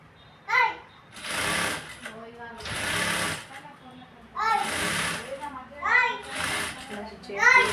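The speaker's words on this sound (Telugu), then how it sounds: "ఇలా స్టిచ్ చేసుకుంటూ నీట్గా రావాలి." A sewing machine stitches a blouse lining in several loud, close bursts of rapid whirring, stopping and starting, while someone talks between and under the runs.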